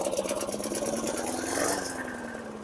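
A 2006 Troy-Bilt front-wheel-drive self-propelled lawn mower engine, running smoky from an oil overfill, idles at very low RPM with a steady, close, loud throbbing rumble that barely changes.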